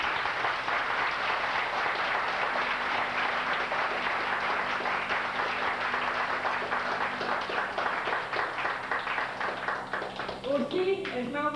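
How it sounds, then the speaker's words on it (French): Wedding guests clap together in a long, even round of applause filling the room, tapering slightly at the close as a voice starts to speak. "Une bonne main d'applaudissements, s'il vous plaît."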